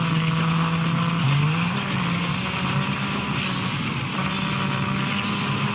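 Car engine revving continuously in a video game, with whining tire squeal rising and falling as the car drifts; steady and loud throughout, with no talking.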